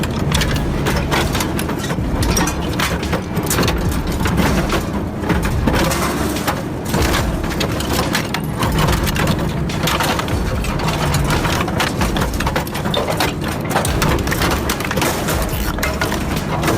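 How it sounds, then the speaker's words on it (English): Industrial shredder tearing through tough scrap such as motorbikes, car tires and metal, a continuous loud grinding and crunching roar with dense splintering, cracking noise and no pauses throughout. "Check out the next generation of industrial shredders designed to tackle the toughest materials."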